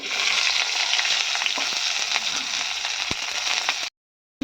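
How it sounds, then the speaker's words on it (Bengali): Chopped onion fries in hot oil seasoned with panch phoron for a Bengali bitter gourd and potato dish, giving a steady, close, dense sizzle and crackle throughout before cutting off abruptly into silence. "দেখো বন্ধুরা পেঁয়াজটা ভেজে নিচ্ছি"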